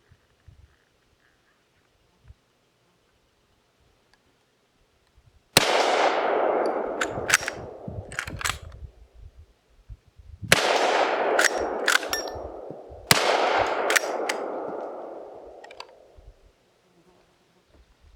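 Three loud rifle shots from an original Winchester 1886 or 1887 fired outdoors, spaced several seconds apart, each a sharp crack with a ringing tail and clatter of handling between.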